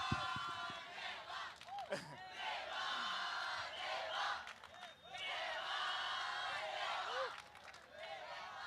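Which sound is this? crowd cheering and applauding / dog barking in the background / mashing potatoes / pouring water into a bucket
crowd cheering and applauding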